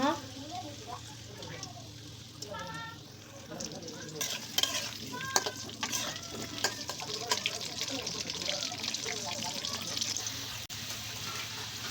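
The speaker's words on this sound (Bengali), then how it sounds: "এখন আমি আলুগুলা ভেজে নিচ্ছি আলুগুলো দিয়ে দিচ্ছি ভাজার জন্য" Potatoes fry and sizzle in hot oil for a Saudi kabsa dish, with steady crackling and repeated scraping stirs of a utensil against the pan, close and continuous, with some kitchen water sounds and brief talk in the background.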